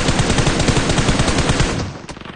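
Rapid automatic gunfire in a battle royale game clan war, a dense, loud burst of shots that continues for about two seconds and then cuts off, with no voices.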